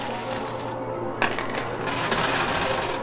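A die drops into the gutter of a high-stakes quarter coin pusher, and the coins rattle and clatter loudly with a sharp clink near the middle over steady arcade machine noise.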